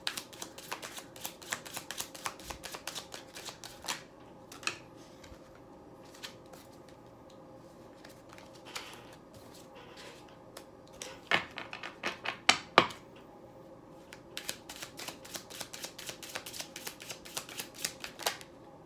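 Tarot cards being shuffled and drawn, giving dry papery riffles and sharp flicks that come in bursts, clustered early and again near the end, with quieter stretches between and no talk.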